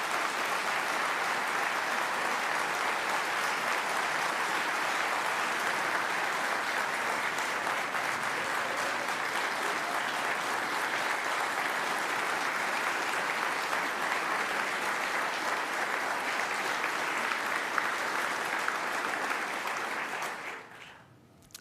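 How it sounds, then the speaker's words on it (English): Audience at a Pentagon Hall of Heroes Medal of Honor ceremony applauds in a long, steady, even round that holds for about twenty seconds, then quickly dies away at the end. "Yeah, you can clap for that."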